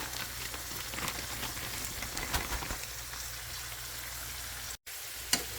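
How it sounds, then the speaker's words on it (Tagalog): Sweet potato cubes sizzling with melting sugar in a pan as they are stirred, a steady soft crackle and hiss continuing throughout with a brief drop near the end. "Konting halo. Hintayin natin na matunaw ng konti yung sugar."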